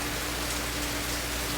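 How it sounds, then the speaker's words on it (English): Heavy rain pours down steadily on a Kona coffee farm, a dense, constant hiss close by with no pauses and no voices. "And it's raining so hard."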